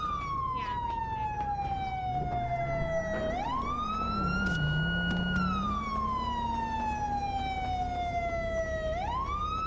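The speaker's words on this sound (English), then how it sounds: "It's because I turned it down because of the sirens." A loud wailing police siren in a video game (NoPixel roleplay) rises and falls in long sweeps over a low engine rumble, continuous and close.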